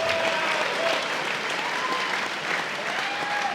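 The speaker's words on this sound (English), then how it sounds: "Ladies and gentlemen, another big round of applause for these 2 guys." Sustained crowd applause at a boxing fight night at Star City Casino, steady and dense throughout, with faint voices and a few whistles threaded through.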